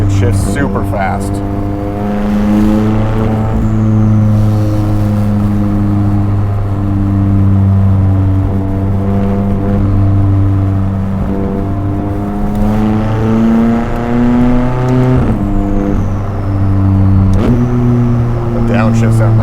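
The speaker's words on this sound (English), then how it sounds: "Downshifts sound nice too." A McLaren 600LT engine revs hard through quick upshifts and then blips through downshifts, loud and close, and the pitch climbs and drops again and again over a steady rumble.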